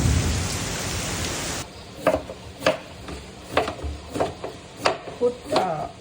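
Heavy rain pours as a loud, dense hiss for a moment, then thins to a quieter wash broken by scattered sharp drips and taps landing nearby.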